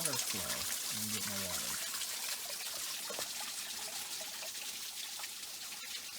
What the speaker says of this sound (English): get down there to the water flow and get